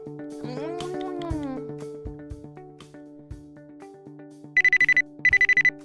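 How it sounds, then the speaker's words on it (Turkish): A telephone rings in two short, quick trilling bursts during home doll play, following voices speaking and singing. "Aa, telefon çalıyor."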